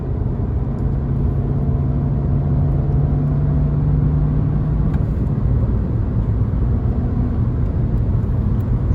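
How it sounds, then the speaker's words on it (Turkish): Interior drone of a VW Passat B7 1.4 TSI accelerating in fourth gear, a loud, steady engine and road rumble throughout with no talk. "Tekrardan dördüncü viteste gaza oturdum. Araç hiç zorlanmadan rahat bir şekilde yürüyor."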